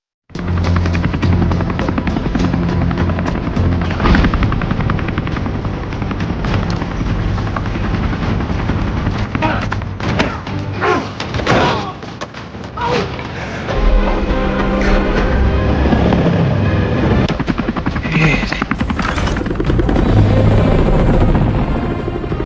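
A helicopter in a film action scene thunders close and loud, rotor chop and turbine whine running throughout, with occasional bangs and impacts mixed into the roar.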